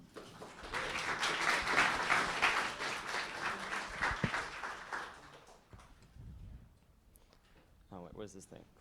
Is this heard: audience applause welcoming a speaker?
yes